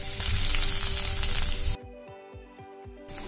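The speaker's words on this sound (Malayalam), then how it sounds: "ഇതിലേക്ക് 1 ടേബിൾ സ്പൂൺ ഇഞ്ചിയും വെളുത്തുള്ളിയും കൂടെ പേസ്റ്റ് അല്ലെങ്കിൽ ചതച്ചിട്ട് കൊടുക്കാം" Ginger garlic paste hits hot coconut oil with popped mustard seeds, a loud close sizzle that cuts off abruptly midway, leaving a quieter rhythmic ticking before the frying hiss swells again.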